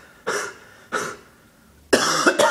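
Three separate harsh, barking coughs from a sick person, the last one longer and rougher, with short quiet gaps between them.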